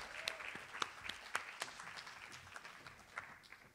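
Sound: audience applause for poet at Poetry Africa

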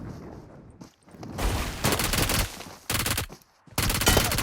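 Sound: gunfire in PUBG Mobile video game

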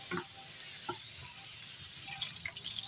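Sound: pork belly frying in oil

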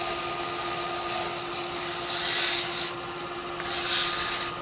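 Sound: sanding wet wood

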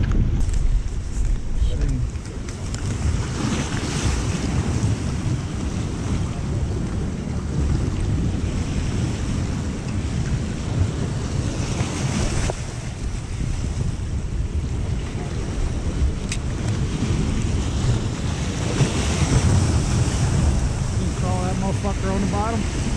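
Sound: ocean waves with wind

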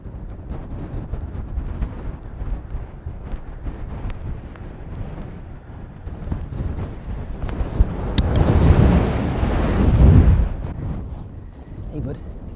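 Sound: heavy rain outdoors in the Lake District

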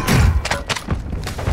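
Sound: mortar strike explosions in Warzone 2.0 video game

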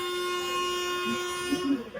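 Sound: train horn at a railway station

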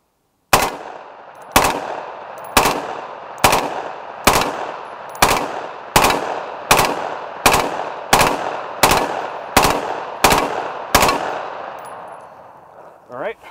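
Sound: gunfire shooting at hard armor, last magazine

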